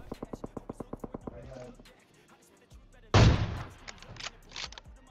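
Gunfire in the battle-royale mobile game PUBG Mobile: a rapid string of about ten evenly spaced shots, then a louder burst and a few scattered cracks later, with game effects between.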